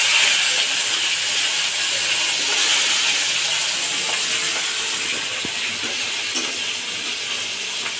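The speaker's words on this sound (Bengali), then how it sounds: "তার জন্য চিংড়ি মাছটা আমি ভেজে নেব।" Prawns fry in hot fish oil in a pan, giving a steady loud sizzle and bubbling hiss that runs continuously, with an occasional faint clink of utensils.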